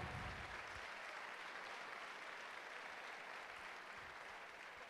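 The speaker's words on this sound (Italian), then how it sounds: "Fategli un grande applauso, che se lo meritano" Steady, dense applause from a crowd at a provincial festival, thanking the organizing group and staff, heard alone at an even level, fading slightly toward the end.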